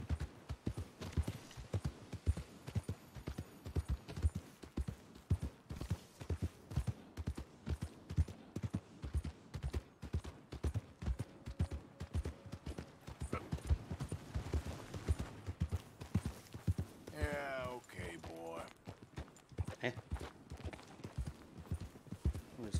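Horse hooves clip-clop at a steady trotting rhythm while riding in Red Dead Redemption 2, continuous and close, with a brief whinny-like burst near the end.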